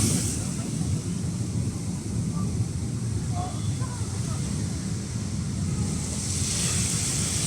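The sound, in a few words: waves on the shore of Manila Bay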